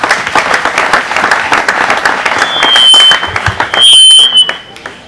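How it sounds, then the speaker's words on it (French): Dense crowd applause at a political mobilisation rally, loud and sustained for about five seconds, with shrill whistles cutting in over the clapping near the end. "Sous vos applaudissements, s'il vous plaît."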